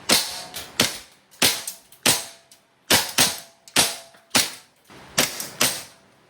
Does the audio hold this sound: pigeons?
no